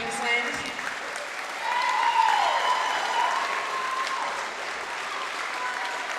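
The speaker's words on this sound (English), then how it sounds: "keep that applause going for our 2018 National Champions Men's Reserve from Victoria" A crowd at a mixed open grand final between Victoria and Queensland applauds steadily for several seconds, swelling briefly midway, with a faint voice briefly over it.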